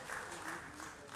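Brief, soft applause from a crowd at a 40th birthday celebration, honoring a pastor after his session; a steady wash of many hands clapping heard at a distance, with no voices over it.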